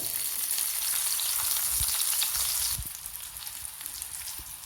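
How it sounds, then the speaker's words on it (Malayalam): Chopped shallots sizzle in hot ghee in a heated pan while a Kerala medicinal kanji is tempered. The frying is loud and steady, then eases to a quieter crackle after about three seconds, with no voices. "ചൂടായ ചീനിച്ചട്ടിയിലോട്ട് നെയ്യ് ഒഴിച്ചു കൊച്ചുള്ളി അരിഞ്ഞത് ചേർക്കാം."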